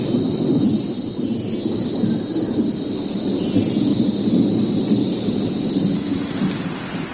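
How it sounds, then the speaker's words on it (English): A heavy rainstorm in the Borneo rainforest, dense rain roaring steadily with deep rumbling thunder rolling underneath throughout, loud and continuous. "a rainstorm brings the siesta to an early end"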